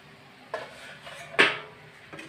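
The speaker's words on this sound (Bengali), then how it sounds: "তো এখন আমি উঠিয়ে দিচ্ছি ঢাকনাটা" A metal lid comes off a pot of pepper kofta curry with three clanks against the rim, the middle one loudest and ringing briefly, set against a quiet kitchen.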